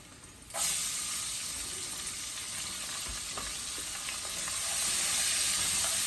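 Onions sautéing with bacon in a pan give a steady, close sizzle and hiss that swells after a brief quieter start, with occasional soft stirring clicks and no talking.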